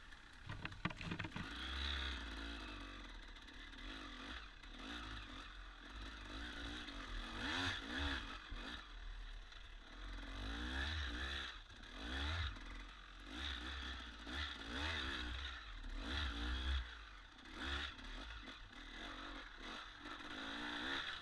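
A 300 dirt bike ridden on old race trails, its engine droning and revving continuously with rising and falling pitch, mixed with scraping and clattering, close and steady throughout.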